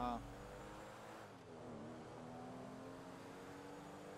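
Sustained car engine drone from GTA 5, rising and holding steady over about four seconds, fairly quiet and up close, with someone talking over it in places.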